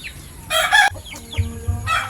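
Roosters crow in bursts among a backyard flock of chickens, two loud harmonic calls bracketing shorter clucks and crows, close and clear with no talking.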